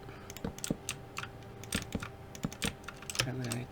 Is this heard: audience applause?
no